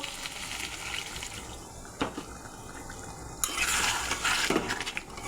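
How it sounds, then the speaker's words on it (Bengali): Water is poured into a pan of chicken kosha curry, a soft, steady trickle and splash that swells near the end, fairly faint, with a clink of cookware. "যেহেতু আজকে আমি কষা রান্না করতেছি, তো অল্প জল দিয়ে দেব।"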